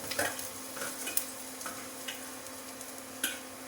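Onion and crushed ginger fry in a pan for upma, a soft, quiet sizzle broken by a few sharp ticks from a spoon tapping and stirring.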